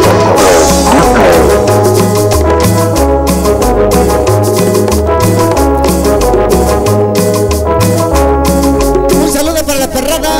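A cumbia track plays loudly at a live dance event in San Jerónimo Ixtlahuaca, with steady rhythmic bass and percussion and bright melodic lines running throughout.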